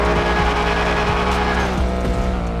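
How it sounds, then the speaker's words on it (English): A race car engine in the game GTA 5 revs hard and continuously at a street race start line, a loud, sustained drone with rising and falling pitch and no speech over it. "Rev up engine to start countdown."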